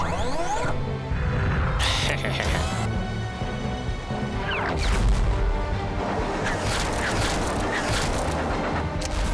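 Loud cartoon cannon blasts and crashing booms in a busy, chaotic action scene, with bursts of noise and clattering layered together throughout.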